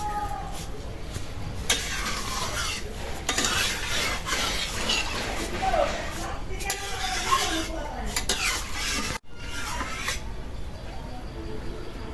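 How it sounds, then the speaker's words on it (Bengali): Fish curry spices and tomato are stirred and sautéed in a pan, with a spoon scraping and clinking against the metal over a steady low sizzle, in repeated close strokes with a brief pause near the end. "টমেটো দিয়ে কষাই নিলাম"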